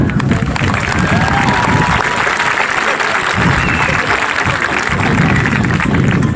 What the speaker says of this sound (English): I want a round of applause for them